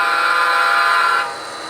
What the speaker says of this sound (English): We're going to honk for the vagrants.